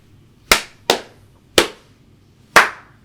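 Four sharp hand claps made to sync a podcast recording, loud and close in an otherwise quiet room, spaced unevenly with a short ringing decay after each.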